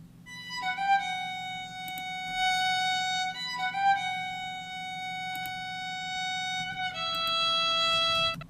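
Solo violin from the Embertone Friedlander sample library plays a plain legato line with rigid, abrupt bow changes, sustained bright tones stepping between pitches with small breaks, moderately loud and close, no voices.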